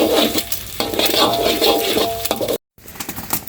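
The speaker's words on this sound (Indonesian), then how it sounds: "Diracak dulu gini nih, diracak." Mie tek-tek noodles being stirred and tossed in a pan over a wood fire, a steady scraping and sizzling churn close by with clinks, cut by a brief silence near the end before the stirring resumes.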